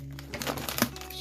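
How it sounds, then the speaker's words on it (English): Bubble wrap packaging crinkles in short, crackly bursts during unpacking, close and fairly quiet, with a brief louder crackle near the end. "Let's get it out of the packaging and see what it comes with. Bubble kind of stuff."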